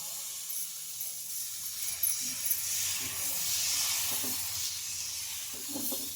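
Dosa batter made from unsoaked green gram sizzles on a hot pan, a steady close hiss under faint kitchen clatter, with a few soft knocks near the end.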